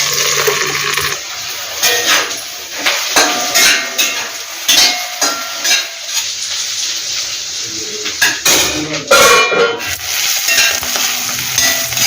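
Onion pieces frying in a pan give a steady loud sizzle, broken by repeated scraping and stirring strokes and a few clinks, with no talk.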